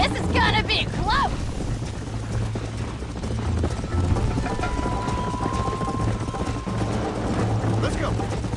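Horse hooves clip-clopping in a Red Dead Redemption ride, steady and continuous under busy game ambience, with a brief voice call near the start and a thin tonal whine later.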